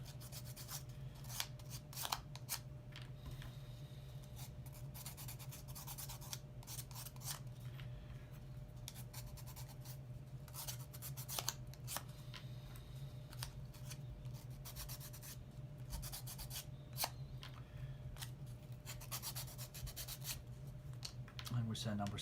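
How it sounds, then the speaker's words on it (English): Sandpaper scrapes a wooden model kit part from a UGears Tower Windmill mechanical 3D wooden model kit, with quick, repeated, close rasping strokes over a steady low hum. "So I'm just going to use a sandpaper."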